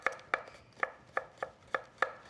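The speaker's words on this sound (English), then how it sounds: "You can cut it like that in half, and then you have kind of half moons" A knife slices a vegetable into rounds on a cutting board, seven crisp, evenly spaced chops landing at a steady rhythm, close and quiet with no voices.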